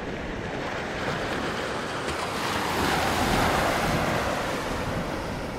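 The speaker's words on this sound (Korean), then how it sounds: "바닷물이 점점 더 불어나서 지붕 위까지 차올랐어요" Sea waves surging in a continuous rushing wash of surf, swelling louder midway and then easing slightly, with a windy hiss and no voices.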